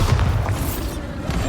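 A Bombarda blasting spell in the Hogwarts Legacy video game, heard as a heavy, rumbling low boom that stays loud and dense through the whole moment, with no voices over it.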